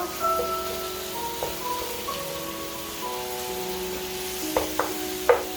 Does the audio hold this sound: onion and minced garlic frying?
yes